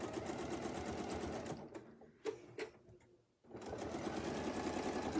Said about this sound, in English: Now I can sew the next one.